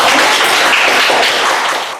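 Students in a middle school classroom applauding together, a dense burst of clapping that fills the room for about two seconds before fading.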